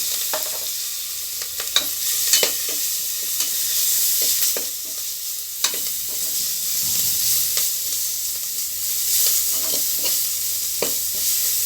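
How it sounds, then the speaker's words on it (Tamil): Crushed garlic, curry leaves, coriander and green chillies fry in a pan for rasam, a steady loud sizzle near the mic with scattered stirring scrapes and clicks and no talk. "இந்த டைமில் நம்ம பூண்டையும் கருவேப்பில்லை பூண்டு கொத்தமல்லி இடித்தது பச்சை மிளகா எல்லாத்தையுமே ஒன்றா சேர்த்துக்கிடுவோம்"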